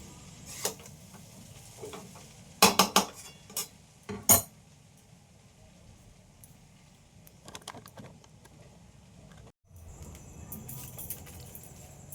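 Chow mein tossed and mixed in a pan, with a few sharp utensil clacks and scrapes in quick succession against a quiet, faint background, followed by softer rustling.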